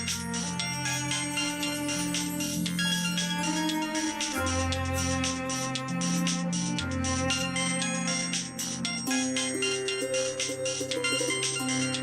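Mobile phone ringtone in a Hindi TV serial, a continuous melodic tune with chiming notes playing on for several phrases, fairly loud and clear with no speech.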